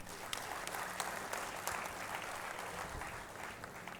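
Audience applause at a conference inaugural session, a faint but continuous spread of hand claps from a seated crowd with no voices over it.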